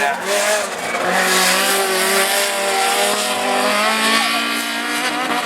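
A blue Peugeot 206 rallycross car racing at a French championship round in Lessay, its engine loud and continuous as it revs and changes pitch, with crowd and commentary noise blended underneath.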